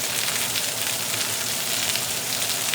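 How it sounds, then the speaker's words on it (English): Beef sears in a hot pan for a black pepper stir fry, giving off a loud, steady, close sizzle and spatter with no pauses and no talking. "Get a good sear on the second side."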